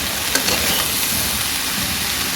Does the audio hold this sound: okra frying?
yes